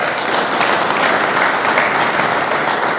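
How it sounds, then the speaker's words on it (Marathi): Loud, sustained applause from a large audience at a senior citizens' event, a dense steady wash of many hands clapping close by with no break. "सगळ्यांसाठी एकदा जोरदार टाळ्या वाजवा"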